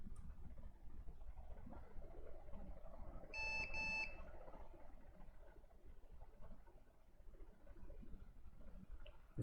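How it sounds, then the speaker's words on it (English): A Lenovo ThinkCentre desktop under motherboard repair gives two quick high electronic beeps as it reboots, heard over a low steady hum of background noise. "We have those normal beeps, 2 beeps."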